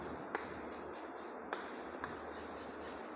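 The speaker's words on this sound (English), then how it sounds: "So I will write the definitions here" Marker or chalk strokes on a classroom board as maths definitions are written, a steady scratchy scraping with a few sharper taps, close and alone without talk.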